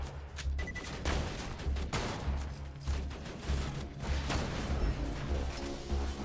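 A deployed sentinel turret firing in Borderlands 2, loud repeated bursts of shots pounding at a steady rhythm, close and continuous with no talk over it.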